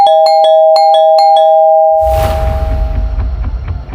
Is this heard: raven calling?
no